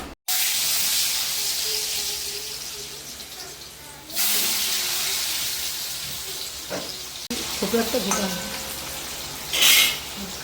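Pointed gourd and pumpkin frying in a wok over a home stove, heard as bursts of loud, close hissing sizzle that fade and return, with pan clatter and stirring and a voice faintly in the background.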